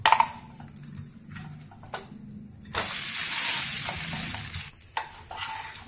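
A pearl millet dosa cooks on a hot pan with a quiet sizzle and light scraping taps, then a louder, sustained rush of sizzling and scraping as it is loosened and flipped, before settling back down.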